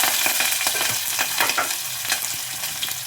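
Chana dal fries in hot oil in a pan, giving a steady close sizzle with crackling pops and stirring, loud and unbroken for a few seconds with no voices.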